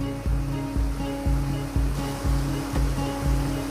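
Creek water rushes over an old logging road, a loud continuous outdoor wash of flowing water with regular rhythmic surges.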